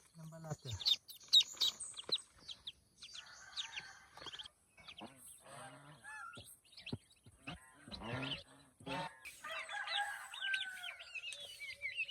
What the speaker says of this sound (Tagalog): Tingnan po natin yung ating native na manok na napisa uli